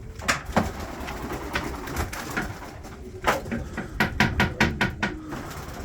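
Adana pigeons in a coop coo softly in repeated low calls, mixed with a series of sharp knocks and wing flaps nearby.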